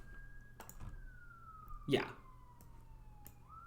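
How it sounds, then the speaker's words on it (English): A siren outside drifts slowly downward in pitch as an emergency vehicle passes at a distance, heard under keyboard clicks and a brief spoken word. "I can hear sirens"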